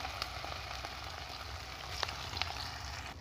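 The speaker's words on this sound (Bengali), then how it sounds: "আমি এইভাবে তেলে একটু একটু করে দিয়ে ছেড়ে ভালো করে নেড়ে চেড়ে আমি ভালো করে ভেজে নেব" Potato and pumpkin fritters frying in hot oil, a soft continuous sizzle and crackle with a few faint pops, close and quiet, no voices.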